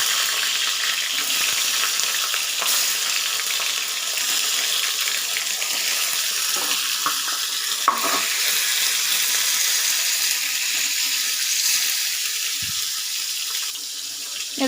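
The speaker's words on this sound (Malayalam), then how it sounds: "ഈ തക്കാളി നമുക്ക് ഒന്ന് വാട്ടിയെടുക്കണം." Tomatoes sauté in coconut oil for a chutney, giving a loud, even, hissing sizzle that runs throughout with a few faint clanks from the pan. No one talks.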